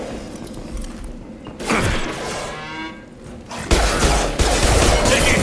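Heavy gunfire from a firefight in the Mass Effect video game, with bursts of dense, loud shots and crashing impacts that surge in waves, dipping briefly before returning even stronger.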